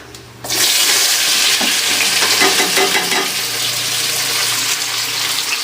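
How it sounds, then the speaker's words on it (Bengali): Chopped onions hit hot oil with cumin, cinnamon, bay leaf and cloves, bursting into a loud, steady sizzle that continues without pause, with faint stirring and scraping in the pan and no talking. "পেঁয়াজ তো দিয়ে দিয়েছি আর এবার একটু নুন দিয়ে দেবো যাতে তাড়াতাড়ি হয়ে যায় ভাজা"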